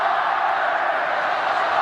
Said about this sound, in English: The crowd is getting loud.